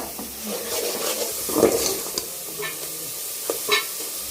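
Rice is stirred into cooked tomato paste in a pan, giving a soft ongoing sizzle with scraping spoon strokes and a few light clinks against the metal, close up and with no talking.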